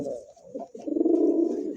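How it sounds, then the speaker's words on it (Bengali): A pigeon at a bird market gives a close, clear coo, a short call followed by a longer rolling coo, with faint voices in the background. "ডাকটা দেখেন কবুতরের"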